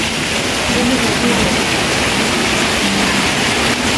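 Sudden rain falling outdoors at Mandai Wildlife West, a steady loud broadband hiss that fills the whole scene without a break, with faint voices in the background.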